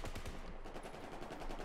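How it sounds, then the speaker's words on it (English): Rapid automatic gunfire from a Battlefield 4 multiplayer match on PC, a dense unbroken rattle of shots that stays loud across the whole short stretch with no talk over it. "Who the hell are they shooting at?"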